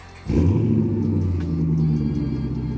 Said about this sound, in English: let me go ahead and give you guys a nice cold start